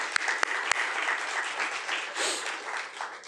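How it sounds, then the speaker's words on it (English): Steady applause from an audience, dense clapping filling the whole stretch with a few sharper claps near the start. "So a big round of applause for all of them."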